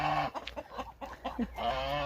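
Geese and other farm fowl in a sunny village yard, a series of close honks and clucks in short bursts with a brief pause, alone without talk.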